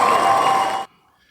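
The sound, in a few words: cheering crowd sound effect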